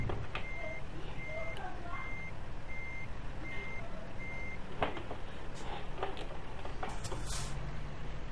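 Steady, evenly spaced reversing beeps from a truck in American Truck Simulator repeat through the first half over a constant low engine rumble, later joined by brief hisses and clunks.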